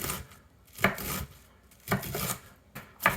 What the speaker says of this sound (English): Two cups cabbage. We're just gonna kind of cut these thin slices here.